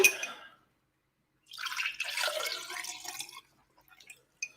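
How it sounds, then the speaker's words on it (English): Liquid poured into a container: a short splash, a pause, then a couple of seconds of gurgling trickling pour that stops, followed by a few faint drips, close and clear. "now I am going to pour that in there"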